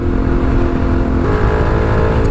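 A Suzuki DRZ motorcycle engine running steadily on a ride, a loud, constant droning hum with a slight rise in pitch partway through and no speech.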